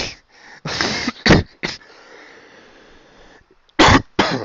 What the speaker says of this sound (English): My apologies for coughing in your ear.